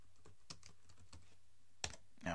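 Computer keyboard typing, a quick run of light, close key clicks in an uneven rhythm, faint overall, ending with a couple of louder keystrokes.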